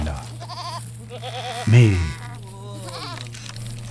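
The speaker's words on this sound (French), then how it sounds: "Les chèvres de Khaldi sont bien là." Goats belonging to Khaldi bleat in a few wavering calls, one louder and nearer than the rest, over a steady low hum while someone speaks briefly.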